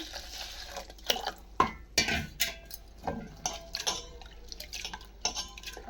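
Flattened rice (poha) being rinsed by hand in water in a bowl, with close, irregular swishing, sloshing and light clinks against the bowl.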